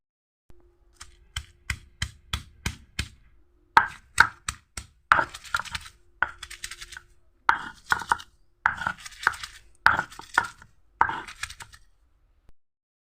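A boti kitchen blade crushing and chopping ingredients for a home recipe, heard as a long series of crisp, close knocks, evenly spaced at first and then in quicker, irregular clusters with short pauses.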